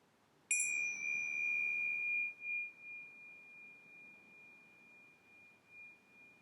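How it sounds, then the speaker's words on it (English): A single meditation bell struck at the close of a session, one clear ring that sustains and slowly fades over several seconds with a gentle pulsing decay, heard alone in a quiet room. "as we listen to the bell"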